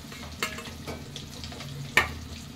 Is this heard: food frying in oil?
yes